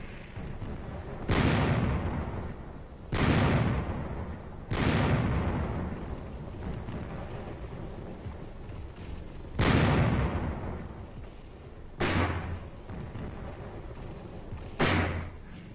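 Artillery fire and explosions from a Korean War battle, with artillery battalions and napalm-carrying aircraft supporting an assault on entrenched hilltops: six heavy booming blasts at irregular intervals, each decaying into rumble, loud and somewhat distant.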